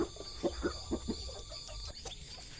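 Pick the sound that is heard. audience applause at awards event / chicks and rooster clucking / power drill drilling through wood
chicks and rooster clucking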